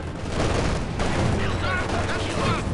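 Battle din from Company of Heroes 2, Soviet campaign mission Scorched Earth, with steady rattling small-arms fire and dull booms under a noisy wash of combat, while voices shout over it.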